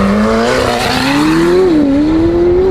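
A McLaren 720S roars away from a standing start on a race track, its engine note climbing steadily in pitch with a brief dip at a gear change, loud and close throughout.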